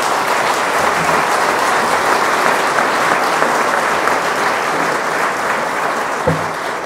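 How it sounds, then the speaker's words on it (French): A roomful of guests applauds a prize-winning artisan baker at a reception for bakers and pastry makers at the Élysée, steady dense clapping that holds at an even level throughout with no voices standing out. "que tout le monde vous voie et puisse vous applaudir peut-être"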